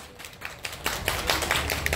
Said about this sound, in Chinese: 也谢谢大家热情的掌声鼓励。